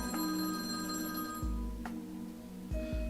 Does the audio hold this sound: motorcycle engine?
no